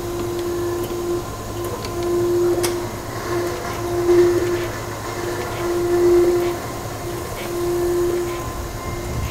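A surface grinder with a 12 by 24 magnetic chuck runs in a machine shop, a steady mechanical drone with a repeating whine that comes and goes as the table traverses back and forth, rising and falling in regular cycles.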